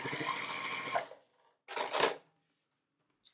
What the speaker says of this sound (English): Place it right sides together and sew.